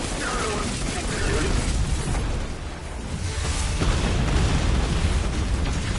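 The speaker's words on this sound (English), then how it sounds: "All the explosions." Booming explosions and rumbling blasts from the video game Destiny 2 fill the whole stretch, loud and dense, with a voice partly under them.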